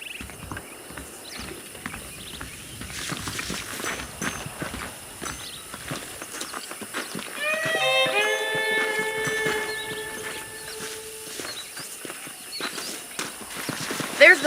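Horse hooves clip-clop steadily in a rhythmic walking pace in the video game Red Dead Redemption, with a voice talking over them and a brief tonal chime partway through.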